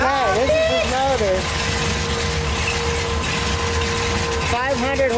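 A 502 big block Chevy engine idling in a camper-less farm truck: a steady low rumble running throughout, nearby and loud, with someone speaking over it at the start and end.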